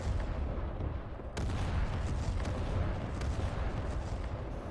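Artillery fire and explosions rumble continuously through a combat scene in the video game Arma 3, with dense, heavy low booms and a sharp blast cutting in near the start, all loud and sustained with no talking.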